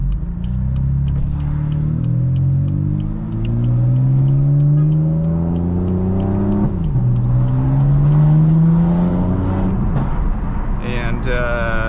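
Inside a BMW M4 on the road, the engine climbs through gears with rising, sweeping tones over a loud steady rumble of road and traffic noise, close and continuous.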